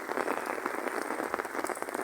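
Light rain falls steadily, a dense continuous patter of drops on a surface, moderately close and even throughout, with no voices.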